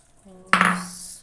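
Soaked lentils drop into a pressure cooker with a single sharp metallic clatter and clink, fading over about a second; faint hum beforehand, no talk.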